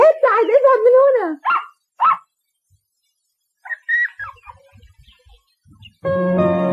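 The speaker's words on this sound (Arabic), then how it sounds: "ما هذا الكلب؟" A dog in an animated series barks and yelps in a short loud burst, followed by a few quieter barks. Voices speak between the barks.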